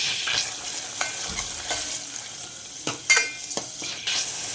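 Masala sizzling and frying in hot oil in a pan, a constant soft crackle punctuated by several sharp scrapes and clinks as a spoon stirs it, with no voices.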